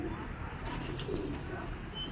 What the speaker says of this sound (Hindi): तो भाई ये कबूतर है